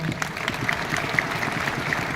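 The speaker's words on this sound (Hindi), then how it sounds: "उनके लिए एक बार जोरदार तालियां" An audience claps steadily through the whole moment, with dense and fairly loud applause filling the space at an indoor business gathering.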